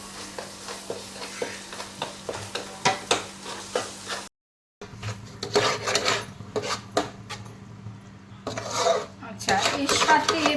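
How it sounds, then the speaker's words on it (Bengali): Masala for chicken roast gravy is sautéed in a pan: rhythmic spatula scrapes over a low sizzle, a brief silent break, then louder, denser scraping and frying. "এই মশলাটা মোটামুটি কষা চলছে, এইভাবে চলতে থাকবে।"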